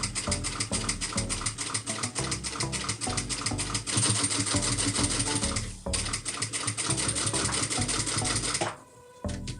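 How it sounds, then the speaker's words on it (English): A sewing machine runs in rapid, steady bursts while stitching a cross bag, with a brief pause mid-run and stopping near the end, loud and close with no talk. "Put my needle down at that corner, back stitch, and then continue to go on the other side."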